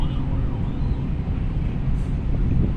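City traffic heard from high above the street, a dense, continuous roar of many vehicles with a faint siren-like tone drifting through, no voices.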